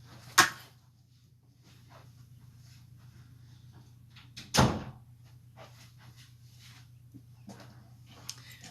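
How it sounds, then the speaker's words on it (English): A door shut indoors, two sharp thuds several seconds apart, the second one louder, over a quiet room with a low steady hum. "Let me shut my door."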